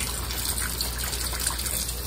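Tap water gushes steadily into a baby's bath filling with Johnson & Johnson soap bubbles, a close, continuous pour with no voices.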